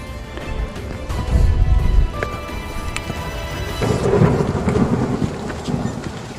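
Steady rain falls during a mountain hike on Mount Slamet, with deep thunder rumbling close by in the background.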